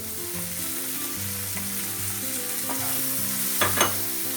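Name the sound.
stirring fried mushrooms into half-cooked vegetables in a pan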